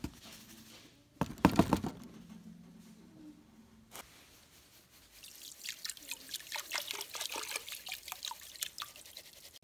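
Water trickling and splashing into an electrolysis tank as it is filled for cleaning a WD45 cylinder head, with a loud splash early on, then a steady dribble and drips.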